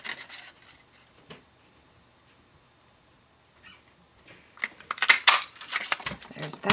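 Scissors snip through paper while cutting out shapes for fox craft figures, a few faint cuts early on, then a dense burst of close, crisp snipping and rustling of paper toward the end.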